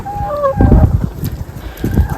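Chickens cluck in a backyard garden, giving a few short, fairly close calls as someone talks over them.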